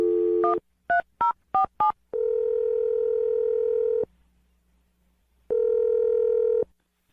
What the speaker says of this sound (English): I'm going to dial it right now.